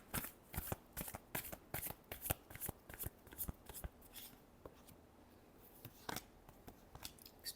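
Tarot cards are shuffled by hand in quick papery riffles and flutters, a steady run of crisp bursts that pauses briefly midway before resuming, close and fairly quiet.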